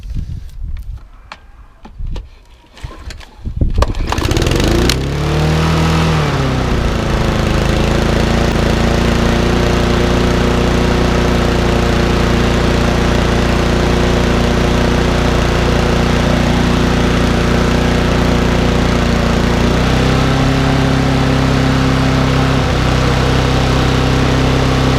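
A Mountfield HP474 petrol lawn mower engine starts after some clattering, revs high, then settles into a steady, loud running drone close by.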